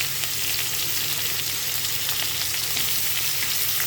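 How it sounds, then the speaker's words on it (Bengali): Chopped onions sizzle steadily in hot oil with dried chilli, bay leaf and panch phoron, forming a loud, continuous frying hiss with faint stirring scrapes and no voices. "পেঁয়াজটা ব্রাউন হবে যতক্ষণ না ততক্ষণ নাড়তে থাকবো।"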